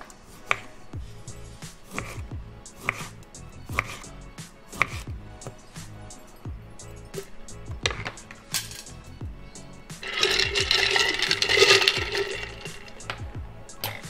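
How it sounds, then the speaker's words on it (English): Knife slicing lemon and lime into big wheels for a batched gin punch: repeated crisp cutting strokes on a board with a brighter, busier stretch of handling near the end. "Just some nice big slices. Whatever citrus you have, some lemon wheels."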